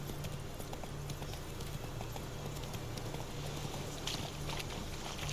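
Horse hooves clip-clop at a steady, continuous rhythm as a mounted character rides in The Witcher 3, with a low hum of game ambience underneath.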